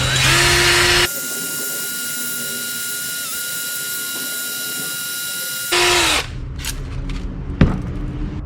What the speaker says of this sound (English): I've got a brake hone that I'm just going to run through and clean it up.